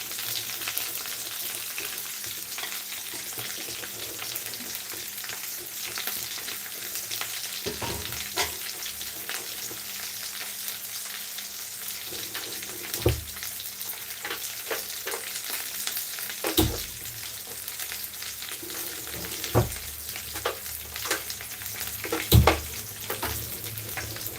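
Food fries in a pan with a constant crackling sizzle, punctuated by several louder clanks and scrapes as it is stirred, with no talk.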